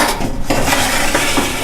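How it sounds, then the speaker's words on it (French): Cooking pans topple and clatter loudly in a home kitchen while a brookie is being made, a dense metallic jangle of pots and utensils lasting the whole short burst, close by with no voices. "tu es en train de faire tomber les casseroles"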